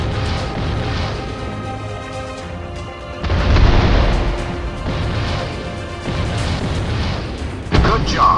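Explosions rumble and crash while a shield emitter ship is destroyed in the Drone 2 Air Assault game. The booms swell in several heavy waves, with radio-style talk running underneath.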